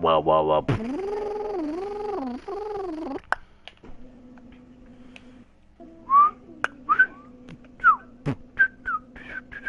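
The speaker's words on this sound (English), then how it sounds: "Stop whistling" A player whistles over online voice chat during a multiplayer shooter match, first a loud sustained wavering tune, then a run of short chirpy whistle notes over a steady hum, with brief talk in between.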